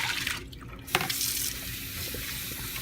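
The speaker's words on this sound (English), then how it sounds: "And you're going to rinse again." Tap water runs steadily into a sink as a handmade wig is rinsed, a continuous close hiss of flowing water with a brief splash near the start.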